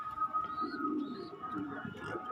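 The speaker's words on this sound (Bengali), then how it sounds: "টোটাল পায়রা খুব ভালো ভালো পায়রা।" Fancy pigeons at a pigeon seller's loft coo softly and repeatedly, low throaty calls mixed with a few faint chirps over a steady background hum.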